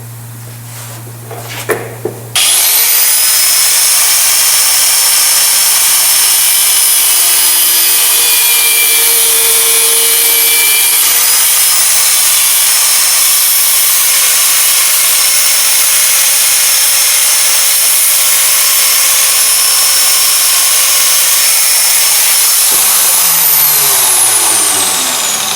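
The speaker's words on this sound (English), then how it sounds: "I'll just trim off this bolt, the long one, to the same size as the other one." Power cutting tool trimming a long steel bolt during a Massey Ferguson TEA20 tractor overhaul, starting up sharply then grinding as a loud continuous harsh whine for over twenty seconds before winding down.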